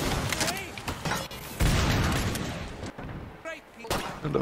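Gunfire in the video game Killing Floor 2: repeated sharp shots and heavy booms crackle in a dense, continuous stream of close battle noise, with people talking over it.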